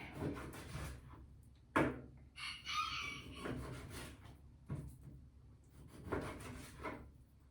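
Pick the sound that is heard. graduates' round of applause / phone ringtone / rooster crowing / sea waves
rooster crowing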